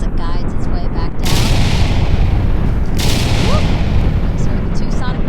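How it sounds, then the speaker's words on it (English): Two heavy sonic booms from landing rocket side boosters in a Kerbal Space Program launch simulation, each a sudden loud broadband blast about two seconds apart over a constant rumbling roar. "So the 2 sonic booms here in the room."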